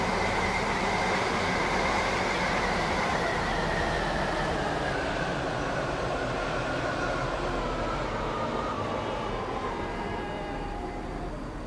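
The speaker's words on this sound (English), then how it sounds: "A class 357." Class 357 electric passenger train passing, a loud continuous roar of wheels and motors with a slowly falling whine, heard close and alone throughout.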